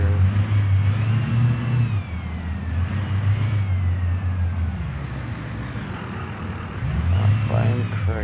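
Engine of a 1977 Pontiac Trans Am Firebird in BeamNG Drive revving and accelerating through several rising pitch sweeps, loud and close, with a voice talking over it.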